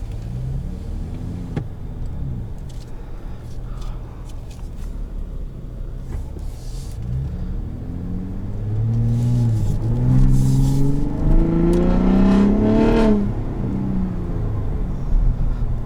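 A 2021 Ford F-150 Raptor 37 Performance truck engine revs up loudly and close, the pitch swelling and climbing before easing back, over a steady low rumble.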